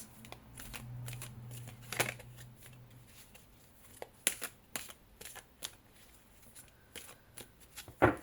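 Tarot cards being shuffled by hand, soft riffling and sharp snapping taps in irregular bursts, close and quiet, with no talking.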